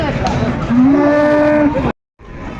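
A Holstein cross calf moos loudly in one long, drawn-out call that rises and wavers, then breaks off into a brief silence before faint farmyard noise resumes.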